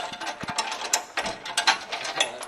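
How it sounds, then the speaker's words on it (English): Ratchet clicking rapidly in short bursts while bumper bolts are removed from underneath a 1970 Ford F100 pickup, close and fairly loud with brief pauses between runs of pawl clicks. "let's go under here and take the bumper bolts out and hold the bumper"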